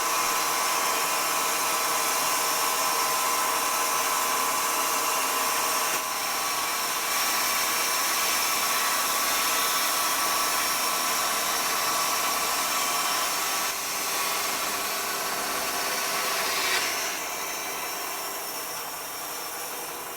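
A power tool shaves a thin flat strip off the top of a log rafter for a log truss, giving a loud, continuous high whine with gritty cutting noise that holds steady for about twenty seconds and eases slightly near the end.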